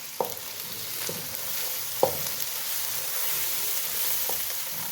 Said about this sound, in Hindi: प्याज थोड़ा सा सॉफ्ट हो गया, अब शामिल करूँगी मैं अदरक लहसुन।